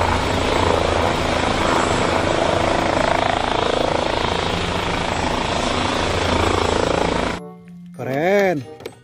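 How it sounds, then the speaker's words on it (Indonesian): A helicopter's rotor and engine chop loudly and steadily for most of the stretch, then cut off abruptly, followed by a short burst of someone speaking. "Helikopter, teman-teman."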